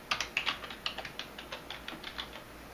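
Quick, crisp computer keyboard keystrokes tap out a short burst of irregular clicks, close and fairly quiet with no speech.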